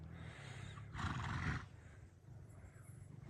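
A tall mare neighs once, a loud rising whinny lasting about half a second, close by amid faint background noise.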